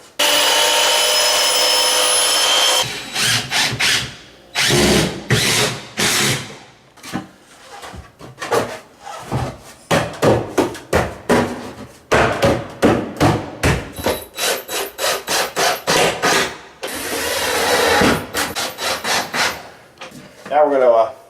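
A power tool cuts down a wooden beam for a wine room build, starting with a long sustained cut and then continuing in a series of short, choppy bursts with gaps between them, loud and close.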